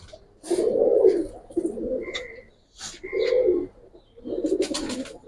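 Khaki and Lalpatti fancy pigeons coo in three close, throaty bursts of rolling low calls separated by short pauses, with faint higher chirps above.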